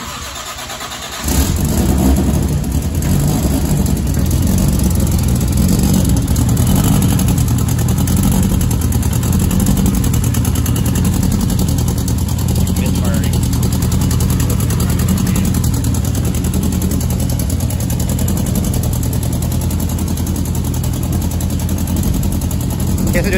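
A Toyota SC300 fitted with a built-head 1.5JZ engine cranks and fires after a second or so, then runs loud and close with rough revving and idle for the rest, a few voices faint underneath.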